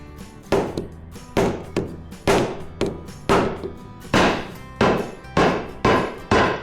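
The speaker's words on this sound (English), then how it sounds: "And now get a little mallet." A small mallet strikes parts of a 1970 Harley-Davidson Ironhead motorcycle in about ten sharp, close knocks at a steady, slightly uneven rhythm, each blow ringing briefly before the next.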